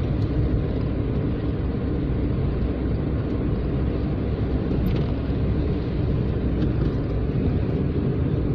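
A Proton Saga Aeroback with a manual gearbox drives along, its engine and road noise a steady, loud, dense rumble heard from inside the car with no break.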